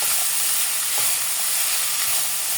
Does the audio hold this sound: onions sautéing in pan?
yes